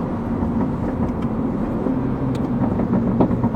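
A Mini JCW 231 with its gearbox set to sport mode, its engine note a steady, loud, continuous rumble from inside the cabin with a low hum throughout and no talking.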